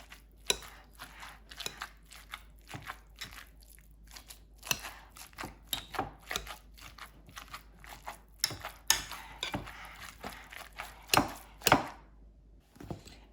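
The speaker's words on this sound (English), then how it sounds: "I'm gonna start mashing the potatoes." Baked potatoes are mashed by hand with milk and cheese, giving irregular soft thuds and squishing strokes that speed up toward the end, close up and fairly quiet, with no talking.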